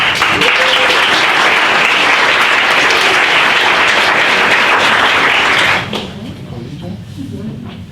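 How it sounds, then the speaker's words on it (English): A luncheon crowd applauds new public school staff members with loud, dense clapping for several seconds, then it fades abruptly and quiet room noise with faint voices remains. "I'd just like to give one more round of applause to all of our new staff members to Windsor Public Schools"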